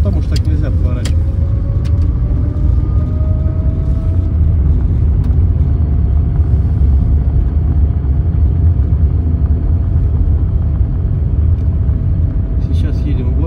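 A car cruises through the city streets of Orenburg, a steady low engine and road rumble that holds unchanged throughout, with a person talking over it.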